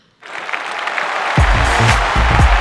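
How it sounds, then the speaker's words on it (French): Applause breaks out and holds steady from a crowd, with loud, dense clapping and a few low thumps partway through. "Vous pouvez l'applaudir."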